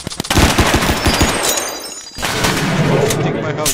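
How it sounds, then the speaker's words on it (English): Rapid bursts of video game gunfire hit a house in Roblox, loud and dense over about two seconds, then a brief lull before more sustained shooting noise; a voice talks over the start. "Stop shooting my house."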